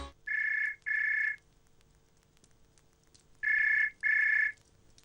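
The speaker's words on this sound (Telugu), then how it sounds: "కోడలా ఫోన్ వచ్చింది చూడు." A telephone rings in a house early in the morning, two pairs of bright electronic trills separated by a pause of about two seconds, fairly close and clear over a quiet room.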